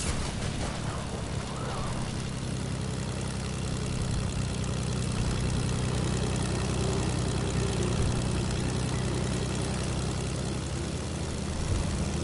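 Small propeller plane in a retro video game, a steady, droning buzz of its engine and airscrew holding at an even level throughout, with no voices.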